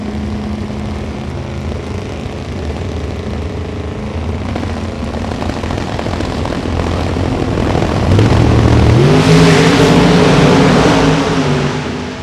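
A drag racing car sits in the staging beams at Topeka, its engine spooling up with a steady rumbling drone that swells louder and rises in pitch toward the end, heard alone without talk.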